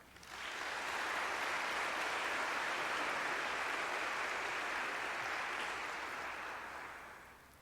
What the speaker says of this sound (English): One more great big round of applause for Dean Bennett.